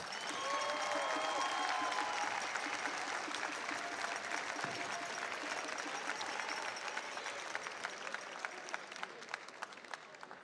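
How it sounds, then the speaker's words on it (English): A large crowd at a FIRST Long Island regional robotics event applauds its volunteers, with dense, loud clapping and a few whistles that thin out into scattered individual claps toward the end. "Let's thank the volunteers with a loud round of applause for all their hard work on your behalf."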